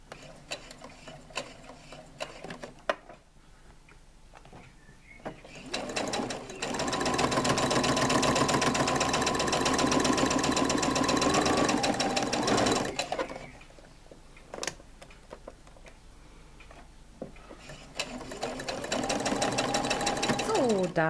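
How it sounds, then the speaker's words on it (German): Domestic sewing machine stitching around the handles and seams of a fabric tote bag, loud steady whirring runs broken by short pauses, with a voice speaking in the gaps. "näht einmal drumherum, wieder über den zweiten Henkel da drüber, über die zweite Naht und verriegelt hier wieder"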